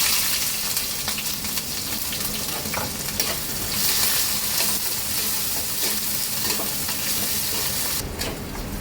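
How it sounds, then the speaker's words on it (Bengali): Chopped onions with green chillies sizzle and crackle in hot oil, a steady close frying hiss with occasional stirring scrapes, and no voices. "পেঁয়াজটা আমার হালকা ভাজা হয়ে গেছে।"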